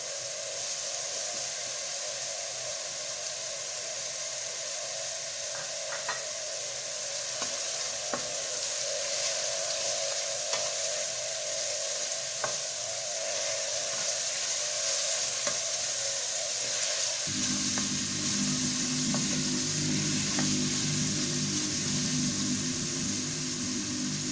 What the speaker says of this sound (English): Thereafter we add the bacon.